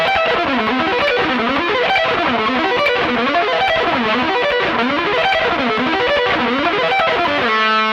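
A fast electric guitar sweep arpeggio with hammer-ons and pull-offs repeats in rapid rising and falling cycles, a continuous loud, close run of notes with a slight distorted edge, ending on a held chord.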